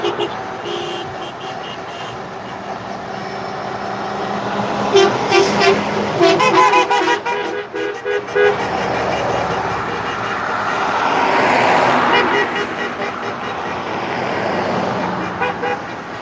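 Road traffic from a large convoy of trucks in Atlantic Canada, with horn toots ringing out repeatedly over the steady rumble of passing engines; people talk throughout.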